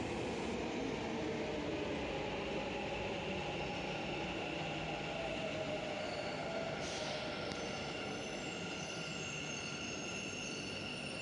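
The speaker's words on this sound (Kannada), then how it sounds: "ಮೆಟ್ರೋ ಬರಲಿಕ್ಕೆ ಆಯಿತು ನೋಡಿ, ಮೆಟ್ರೋ ಬಂತು." A metro train pulls into a station with a continuous loud rumble and a high wheel whine that hold steady throughout, close by, with a brief sharper squeal partway through.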